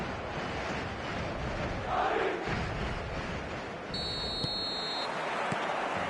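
Stadium crowd noise on match day in a football video game, a steady distant roar that swells briefly, with a short electronic tone partway through.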